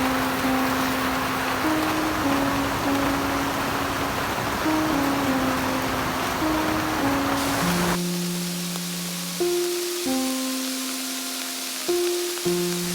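Rain falls steadily around an outdoor shelter in nature as a constant hiss, with a sustained musical tone layered over it and the rain thinning somewhat partway through.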